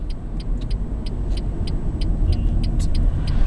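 A Renault Megane Estate 1.5 diesel pulling over, heard as a steady low road rumble and engine drone from inside the car, with faint ticking above and no talking.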